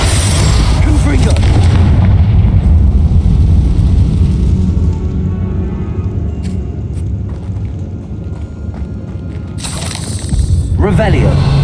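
A Confringo fire spell explodes in the Hogwarts Legacy video game, heard as loud, sustained booming blasts and rumbling combat effects that stay dense throughout and swell again near the end, with no talk over them.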